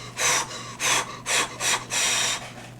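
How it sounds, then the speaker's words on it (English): Heavy breathing picked up close on a microphone, five loud rasping breaths in a steady rhythm with short pauses between them, set over a faint low hum. "So if I'm doing stuff like, I don't know, running, or I guess just heavy breathing,"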